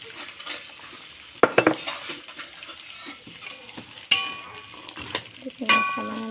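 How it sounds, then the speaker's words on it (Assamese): Ginger being stirred in a cooking pan, with a soft steady sizzle and several sharp scrapes and clinks of a utensil against the metal, close by. "অকণমান এনেকৈ লাৰি দিছোঁ।"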